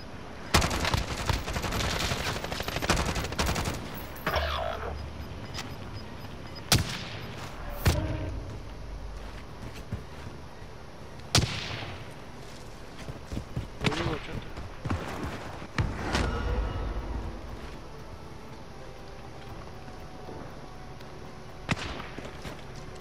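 Gunfire from the battle-royale video game Warzone, with scattered sharp shot bursts and thuds spread across the clip over a busy game background, while players talk throughout.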